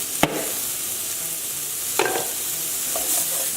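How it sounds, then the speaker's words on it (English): Garlic and green onions sizzle in a hot pan for a steak and peppers stir-fry, a steady close hiss with a sharp stir or clatter near the start and another around two seconds. "we're now going to add the garlic"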